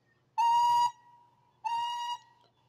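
Percy the locomotive's whistle from a train video game sounds twice, two clear tonal blasts, the first longer and the second slightly softer, with a short quiet gap between.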